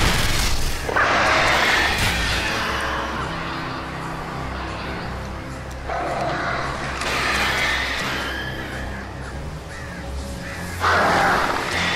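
Crows in Alan Wake caw harshly during an attack, several loud bursts recurring every few seconds over dense, rumbling game noise, with a voice briefly heard.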